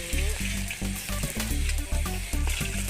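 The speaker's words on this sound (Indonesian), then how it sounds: "Pertama kita masukkan bawang dulu." Onion added to hot oil gives a loud, bright sizzling hiss, partly masked by a melodic tune that plays over it throughout.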